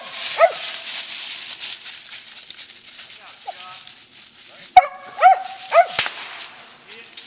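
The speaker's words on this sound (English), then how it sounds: "Good dogs, get him up there." Hunting dogs bark at a squirrel in the woods: scattered sharp barks early on, then a tight cluster of loud barks near the end, over quiet outdoor ambience with a voice heard briefly.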